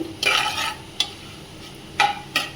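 Shahjeera (caraway) seeds and cloves fry in hot oil for chicken sharva, with a soft sizzle broken by several sharp spoon scrapes and stirring strokes, close and quiet with no talk.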